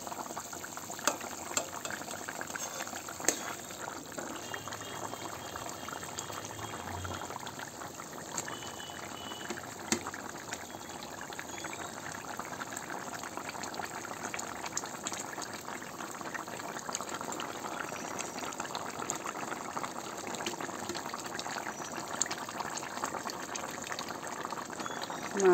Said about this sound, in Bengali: মাছগুলো দিয়ে একটু ফুটিয়ে নিই